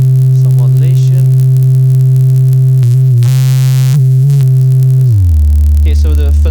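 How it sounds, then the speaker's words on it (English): Steady pure sine tone from a Joranalogue analog synthesizer's fundamental channel, loud and sustained, with brief pitch glides and a drop to a lower pitch near the end, a faint voice briefly underneath. "the fundamental is basically the sine wave"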